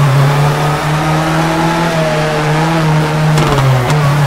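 A rally car in the WRC video game revs hard through a handbrake hairpin, its loud steady engine note dipping briefly near the end amid faint tire noise, with no talk.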